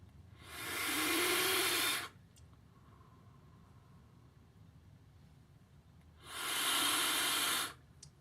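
Two long hissing draws on a Geekvape Griffin 25 Plus vape tank with the top airflow open, each airy rush lasting a couple of seconds, close up, with quiet pauses between.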